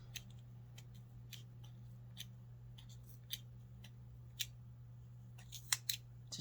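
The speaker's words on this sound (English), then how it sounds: "put your scissors underneath, and then you're just gonna cut" Scissors snip through yarn wound on a pom pom maker in a quiet room, a series of small crisp cuts that come irregularly and then cluster toward the end over a steady low hum.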